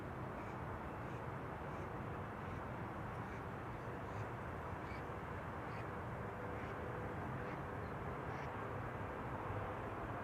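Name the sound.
Boeing 747 on final approach at Amsterdam Schiphol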